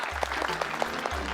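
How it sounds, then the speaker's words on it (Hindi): Audience applause in a short burst of steady hand clapping, close and fairly loud, lasting just over a second. "यहाँ तालियां बजती है।"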